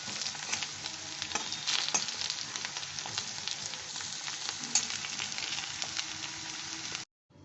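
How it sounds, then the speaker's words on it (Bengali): Flour-dusted, salted eggplant cubes fry in hot oil with a steady, dense sizzle and crackle, close and continuous, with occasional stirring scrapes, cutting off abruptly near the end. "একটু তেল দিয়ে দিচ্ছি আর এটা ভেজে নিচ্ছি"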